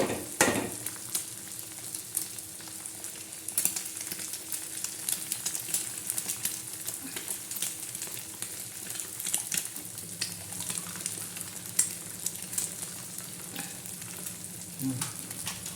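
Mango chutney sizzles and fries steadily in a pan while being stirred, with a constant crackle and occasional scrape of the spoon, close and fairly quiet with no talking.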